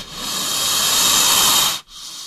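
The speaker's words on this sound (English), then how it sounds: "snake" A snake gives a loud, steady hiss for about two seconds and then stops abruptly.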